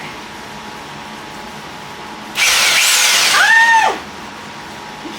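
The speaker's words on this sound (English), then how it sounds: "It's such a powerful drill" A powerful electric drill, used for a job on the wall of an old house, whirs in one loud burst of about a second and a half. Its whining pitch sweeps up and then drops as it stops, and a short exclamation follows.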